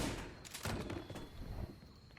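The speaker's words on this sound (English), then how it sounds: "Switch to shotguns here." Shotgun blasts in the action video game Wet, a few booming shots overlapping in quick succession, somewhat muffled and moderately loud.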